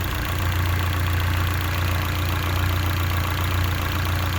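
A Honda car engine with a Hondata KPRO tune, being checked for a misfire, runs on a dyno with a steady low drone and a faint rhythmic pulse, loud, close and constant, with no talking.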